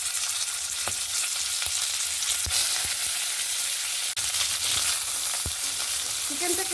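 Chicken frying in hot oil with cloves and black pepper for a vegetable chicken soup, a continuous loud sizzle broken by occasional clicks and scrapes of stirring.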